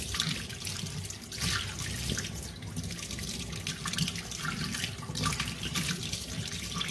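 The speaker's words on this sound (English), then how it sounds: "rinse it well." Tap water runs steadily over a freshly gutted trout being rinsed in a sink, a continuous close splashing hiss with small drips and trickles, no voices.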